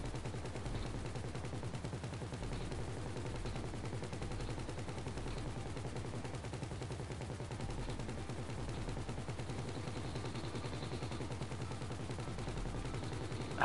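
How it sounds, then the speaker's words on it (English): Sustained rapid minigun fire in a GTA heist plays on without pause, a dense continuous rattle at moderate, steady level with no voices. "That's a big range for the minigun."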